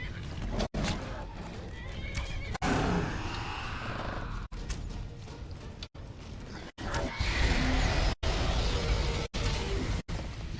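A horse in the video game Skyrim whinnies amid in-game ambience, the neigh standing out over a steady background broken by several abrupt cuts.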